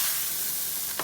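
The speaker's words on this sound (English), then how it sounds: "give that a nice little stir" Sliced vine-ripe tomatoes sizzle and hiss in a hot discada pan for shrimp and chipotle, a steady close frying sound with a faint scrape of stirring at the end.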